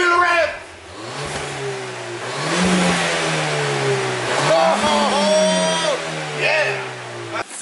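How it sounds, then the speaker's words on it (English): A Ford Fiesta ST with an FSWERKS sport exhaust revs up and holds a loud, rising drone, then settles, with voices talking over it nearby. "rev it up! Give it a rev!"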